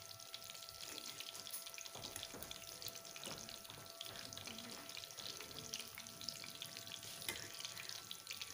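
Chapli kebabs of minced meat fry on low heat, giving a steady, soft sizzle with a faint watery crackle throughout and no talking.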